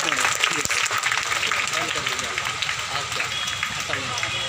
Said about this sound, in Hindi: और जोरदार तालियां कर दें।